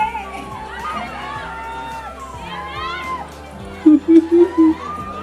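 Excited crowd of fans at a cinema meet-up, squealing and cheering together in a loud, sustained wash of voices, with several sharp rising shrieks near the end.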